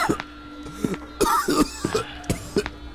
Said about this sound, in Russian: Ох, как ты кашляешь-то, а?